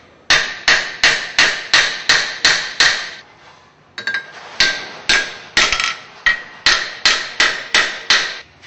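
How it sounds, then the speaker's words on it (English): A hammer pounds washer tabs flat while a Grundfos 625S, 800S or 1100S pump is being assembled. About twenty sharp, evenly spaced metallic strikes ring out close by in two quick runs, split by a short pause. "we're going to take a hammer and we're going to actually just bend these back"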